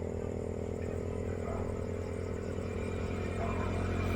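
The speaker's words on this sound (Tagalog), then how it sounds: "Ako lang sa obserbaran kung paminaon akong makina kung okay ba siya." A rebuilt motorcycle engine runs at a steady idle, close and loud, with an even mechanical clatter and no clear revving throughout.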